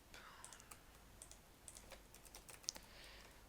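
Java code is typed on a computer keyboard in a quick, uneven run of soft key clicks, with one sharper tap near the end, under a faint background hiss.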